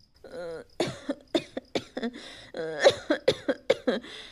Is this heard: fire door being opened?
no